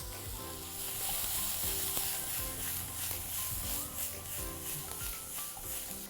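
Capsicum stir-fried and tossed in a pan for soya chilli manchurian, a steady close sizzle with scraping stir strokes, no talking.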